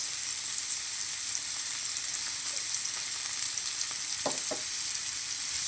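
Chopped onions and salt fry in a pan with a steady, bright sizzle that holds evenly throughout, broken by a brief stir or scrape near the end.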